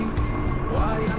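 Reversing beeps from a truck backing up in the Euro Truck Simulator 2 video game, a steady repeated warning tone over a continuous engine hum, with a voice guiding the driver.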